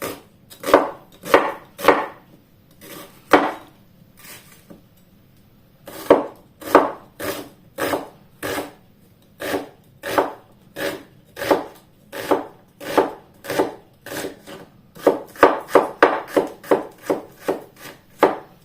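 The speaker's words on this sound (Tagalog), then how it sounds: "Kaya medyo mahirap-hirap po akong mag-cut ng onions" A knife chops onions on a cutting board in crisp, regular strokes, short bursts of rapid knocks separated by brief pauses, close and loud with no talking.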